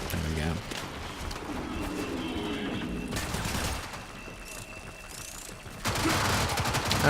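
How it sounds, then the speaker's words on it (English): Enemy gunfire in the Warframe video game, dense rattling bursts of shots mixed with game music and effects, steady and loud throughout with a heavier burst near the end. "they're shooting at me"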